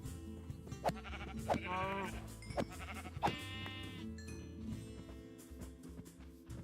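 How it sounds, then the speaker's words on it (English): A few sheep bleat in Minecraft survival gameplay, short wavering cries that come and go over soft background game music and light clicking, with no talking. "I will go kill that sheep for the sake of its meat"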